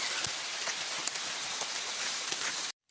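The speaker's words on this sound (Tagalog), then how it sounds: "Ayan guys, sinabot tayo ng ulan." Steady rain patters on a surface, a dense close hiss with occasional distinct drips, ending abruptly.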